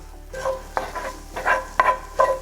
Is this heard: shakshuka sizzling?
yes